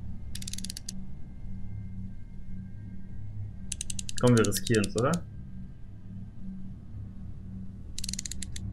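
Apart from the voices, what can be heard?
enemy's knife sound in VR horror video game Home Sweet Home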